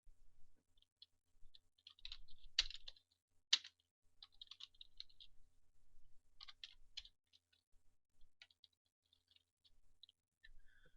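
Typing on a computer keyboard while naming a virtual machine, faint scattered key clicks in short irregular runs with quiet gaps and a couple of sharper taps.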